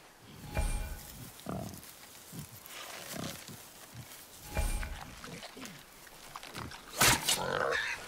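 A boar grunts and snorts in a God of War hunting scene, with several rough bursts spread across the moment at moderate loudness, mixed with footsteps and rustling.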